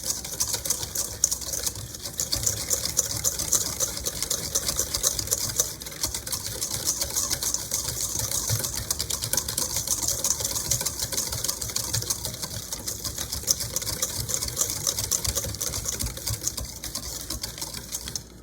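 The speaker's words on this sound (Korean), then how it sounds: "그리고 휘퍼로 거품기로 저어줍니다." A whisk stirs sugar in a bowl for a fig tart, making a rapid, continuous scraping rattle that keeps an even pace for about eighteen seconds, close and alone without talk.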